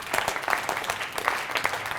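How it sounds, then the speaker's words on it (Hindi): Workshop participants in a girls' session break into steady, close applause, a continuous wash of overlapping claps with a pulsing rhythm throughout. "जोरदार तालियां होनी चाहिए इसके लिए"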